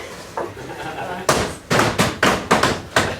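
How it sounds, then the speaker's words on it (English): Knocking on a door during a stage performance of a Shakespeare comedy, a few sharp knocks followed by a series of loud, evenly spaced heavy raps, with faint background noise. "They're busy within, you best knock louder."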